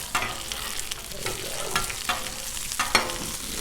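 Sausages sizzle on a Blackstone griddle while breakfast sliders cook, a steady close frying hiss broken by a few sharp spatula taps and scrapes, no talking.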